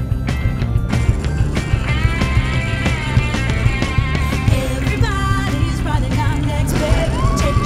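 A speed luge rattles and rumbles down the La Plagne bobsleigh track at over 90 km/h, with a steady roar of runners on ice and scattered clacks and bumps throughout.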